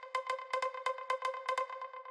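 A bright, tonal tech house synth one-shot stab repeated in a quick rhythmic pattern, short plucky hits with a steady pitch and clean gaps between them.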